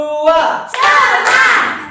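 A class of students claps on a teacher's command during a microteaching lesson: a voice calls out, then the group answers with two loud, sharp bursts of clapping close by.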